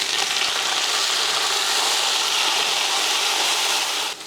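Mint and coriander leaves fry with golden onions in a pot for mutton biryani, a loud, dense, continuous sizzle up close that drops off slightly at the very end, no voices.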